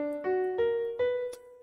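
Four sustained melodic notes of a minor scale played one after another, each a rich harmonic tone stepping slightly upward, clear and close with no talking.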